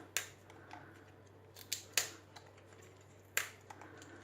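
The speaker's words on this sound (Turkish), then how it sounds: "yapraklarını şöyle yarım olacak şekilde kırmaya başlıyoruz." Artichoke leaves are snapped off by hand one at a time, giving several sharp, crisp cracks at irregular intervals over a faint steady hum, with no talking.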